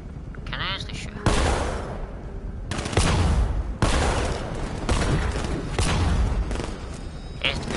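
Gunfire in the Batman Arkham Knight video game, loud sustained bursts of rapid shots in several long volleys separated by brief gaps, with a voice speaking over the action.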